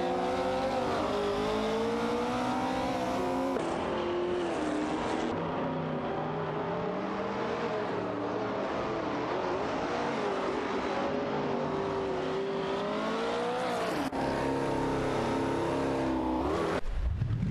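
Race cars in a video game, including a Porsche 908 Spider, battling wheel to wheel: steady engine drone with rising and falling revs across gear changes, loud and continuous throughout.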